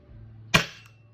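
A single sharp shot from a Tokyo Marui airsoft gun firing 0.2 gram BBs, close and loud, with a quick decaying tail over a low background hum.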